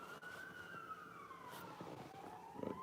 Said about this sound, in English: I was listening to the sirens